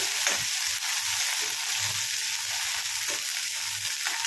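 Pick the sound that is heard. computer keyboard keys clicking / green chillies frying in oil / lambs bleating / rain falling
green chillies frying in oil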